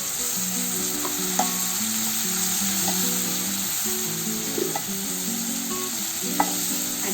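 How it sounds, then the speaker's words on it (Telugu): Green peas for a samosa filling sizzle steadily in a hot pan, with a spatula stirring and scraping them in short repeated strokes under the constant crackle, close and fairly quiet, and no one speaking. "ఇందులోకి నేను పీస్ యాడ్ చేస్తున్నాను,"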